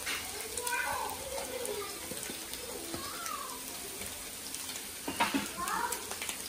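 Capsicum and other vegetables stir-frying in a pan for prawn fried rice give a soft steady sizzle with scattered scraping and clinking of the stirring utensil, moderately close.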